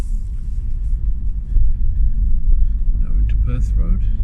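Car driving along a road during a driving lesson, a low steady cabin rumble of engine and tyres with an instructor talking over it, rising slightly partway through.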